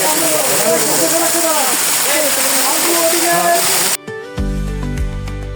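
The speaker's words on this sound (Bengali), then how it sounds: "গা বেয়ে ঝর্ণা পড়ার কিছু পানির শব্দ আমি আপনাদের একটু শোনাবো।" A small hill waterfall at Himchari in Cox's Bazar, its water pouring down the rock in a steady close rushing roar with a voice talking over it, until the sound cuts abruptly to a different quieter scene near the end.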